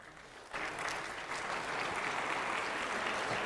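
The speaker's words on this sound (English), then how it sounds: "let's give these people a round of applause." Church congregation breaks into applause, starting abruptly after a quiet moment and swelling into steady, full clapping from many hands that continues to the end.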